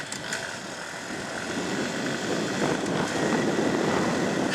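A Honda Super Cub C125 motorcycle with a centrifugal clutch, ridden at full throttle. Its engine gives a loud, steady, slowly rising drone mixed with heavy wind roar.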